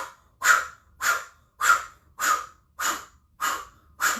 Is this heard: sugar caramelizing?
no